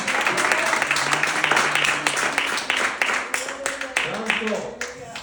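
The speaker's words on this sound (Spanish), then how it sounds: "Fuerte aplauso para el Señor" Congregation applauding during a Spanish-language church service, a dense wash of clapping that thins toward the end, with voices and shouts mixed in over it.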